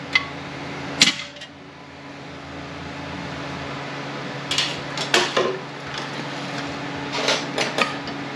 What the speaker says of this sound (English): I stick my screwdriver through the apply hole, and I smack the band and seat it up into the anchors